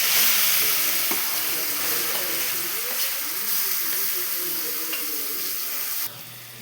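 Mango pieces drop into hot oil tempered with mustard seeds and curry leaves for a summer mango thokku, giving a steady, fairly loud sizzle with faint stirring that cuts off abruptly near the end.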